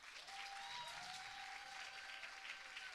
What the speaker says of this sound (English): A round of applause until she gets here.